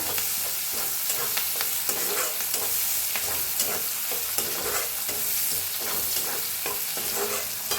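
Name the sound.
onion and curry leaves frying in oil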